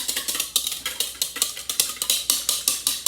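Eggs are beaten with a whisk in a bowl for a frittata, giving a quick, steady run of sharp clinking strokes against the bowl. The strokes are close and fairly loud, with no voices.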